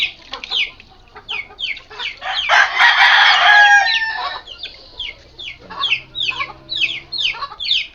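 One-month-old chicks and a mother hen cluck and chirp steadily during a bath, with a louder burst of flustered clucking and squawking in the middle, close by and without talk.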